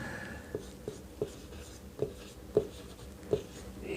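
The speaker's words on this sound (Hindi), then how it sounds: "देखिए हम यहाँ पे आपको लिख भी देते हैं।" Hand writing for a reasoning lesson sounds as a soft, close scratching of strokes with regular tapping accents about every half second.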